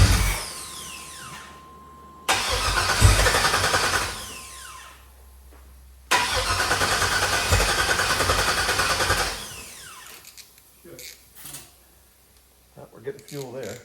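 An LS-swapped V8 is cranked on its first start attempt: two long bursts of loud whirring cranking separated by pauses, then sputtering, uneven catches and short revs as it tries to run.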